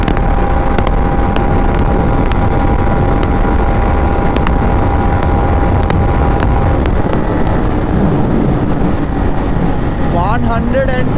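A motorcycle on a long ride running at top speed in fifth gear, a loud continuous engine and wind roar with heavy buffeting that stays steady throughout.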